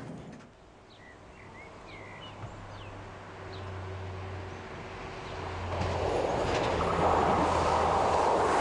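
Diesel ICE-TD train rolling slowly along a single-track line, a low steady rumble and hum from inside that grows louder and broader toward the end, with faint high squeaks.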